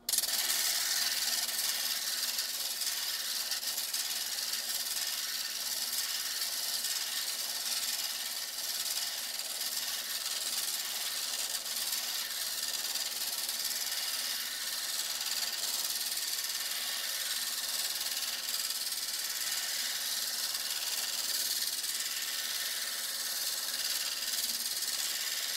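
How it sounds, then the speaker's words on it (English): An 80 grit diamond disc grinds and shapes a cabochon stone, giving a steady, continuous abrasive rubbing hiss that holds even and fairly loud throughout with no talk. "the whole goal of this 80 grit diamond disc that we're working on right now is just to shape it"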